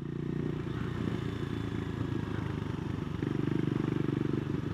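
A Triumph Scrambler 400x fitted with a Fuel X Autotune pulls in second gear, its single-cylinder engine a steady throbbing drone that swells slightly louder toward the end.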